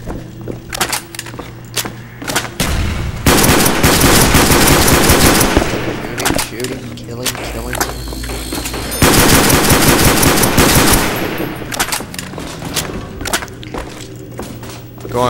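Rapid automatic gunfire from a Black Ops Zombies match on Shi No Numa, loud dense bursts with short gaps and thuds between volleys, no talking.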